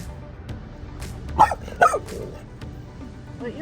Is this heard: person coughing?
no